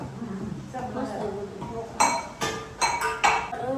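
Dishes and steel plates clink and clatter in a family kitchen while dhokla is served out, with several sharp close knocks toward the end under ongoing talk.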